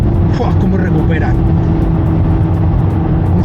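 A 2026 Volkswagen Golf GTI Clubsport with a 2-litre, 300 hp engine accelerates, a steady loud cabin drone that stays constant under continuous talking from the driver.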